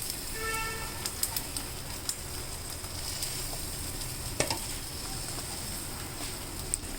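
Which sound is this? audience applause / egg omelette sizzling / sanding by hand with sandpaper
egg omelette sizzling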